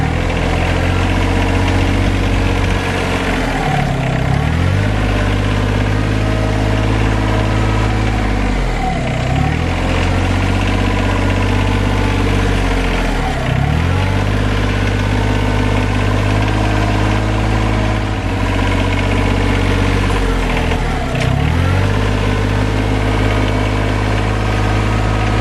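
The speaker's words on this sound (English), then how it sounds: "the RK25 certainly did the trick in squashing those black walnut husks" RK25 engine idling steadily up close while rolling over black walnut husks, its even drone dipping in pitch every few seconds as the load changes, with no voices.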